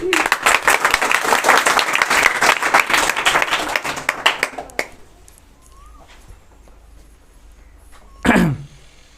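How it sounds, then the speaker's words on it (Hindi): A large audience bursts into loud, dense clapping at a motivational talk, sustained for about five seconds before breaking off, followed by quiet room tone and one short sharp noise near the end. "क्या सब लोग तैयार हैं? एक जोरदार ताली।"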